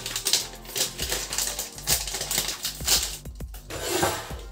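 Crinkling and tearing of a foil bag of roasted chili peanuts (240 g) being opened, a dense run of crackles and sharp taps throughout, close and fairly loud with no talking.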